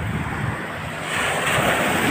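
Rough sea surf washes continuously against the shore, a steady broadband roar that swells slightly louder in the second half, mixed with gusty wind buffeting the microphone.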